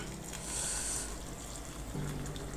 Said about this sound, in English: So I'll go ahead and add some boiled water.